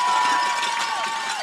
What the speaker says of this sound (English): There he is up now, and you can hear the crowd